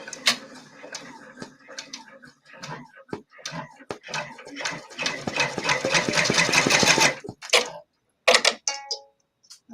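Brother PR680W embroidery machine stitching an apron, a rapid mechanical ticking and whirring that builds into a dense run, then stops and starts in short bursts.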